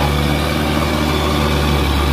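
An ACE tractor loaded with about 200 quintals of cement bags strains under the load, its engine giving a loud, steady, close drone with no break.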